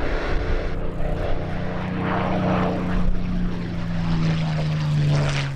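A P-51 Mustang fighter with a Rolls-Royce Merlin piston engine flies past at an airshow, its steady, loud propeller drone holding throughout with a slowly falling pitch as it passes.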